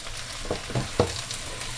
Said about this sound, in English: a few minutes you have to turn and saute with the turmeric and pepper